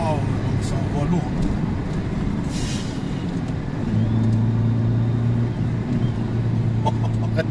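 Renault Megane 2 RS engine revving hard under throttle, a loud, sustained rumbling drone that rises and steadies partway through, heard from inside the car with occupants' voices over it.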